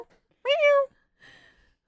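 A person imitates a cat's meow with a single drawn-out, tonal vocal mew in the middle, followed by a softer, fainter vocal sound, in a quiet room.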